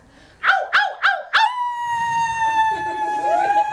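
A person imitating a wolf howl: four short rising yips followed by a long, sustained, wavering howl, close and loud, with faint background murmur underneath.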